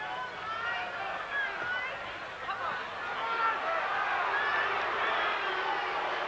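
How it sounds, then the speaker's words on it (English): Boxing arena crowd jeering James Smith during his 1987 fight with Mike Tyson, a steady roar of boos and voices swelling slightly, with a commentator talking over it. "So the crowd now jeering Smith,"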